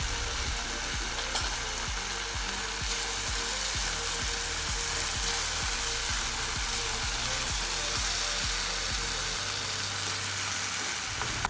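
Salt, turmeric and cumin-coriander powder sizzle in a pan for a fish curry, a steady frying crackle broken by regular scraping strokes of a stirring spoon.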